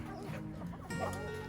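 Backyard chickens clucking in a homestead setting, with soft, low clucks and brief squawks that overlap in a steady, close murmur.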